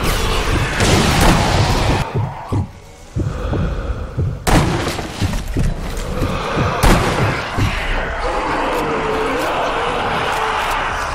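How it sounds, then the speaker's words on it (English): Explosions and heavy gunfire boom through a Zombie Army Trilogy battle, several loud sharp blasts in the first seven seconds followed by a rumbling, noisy aftermath. "It's gonna be an explosion."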